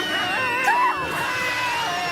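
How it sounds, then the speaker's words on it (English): Cartoon ponies from My Little Pony scream together, a high, wavering cluster of shrill voices lasting about two seconds over a dense backdrop of show sound. "That's some pretty good screaming they're doing there."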